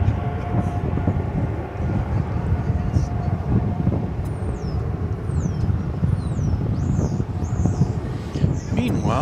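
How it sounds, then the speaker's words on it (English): A Boeing 787 Dreamliner departing DFW Airport for Seoul produces a steady, broad, distant roar and rumble that holds throughout, while birds chirp intermittently nearby. "we've got an outbound Dreamliner to Seoul"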